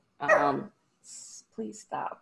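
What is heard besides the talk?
dog barking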